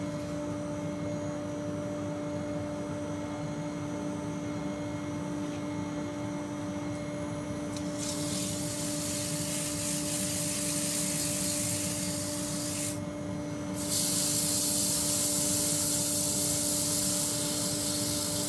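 A turned wooden bird box is sanded on a running lathe, a steady rubbing hiss over a constant motor hum, with sanding bursts growing louder partway through and no talk.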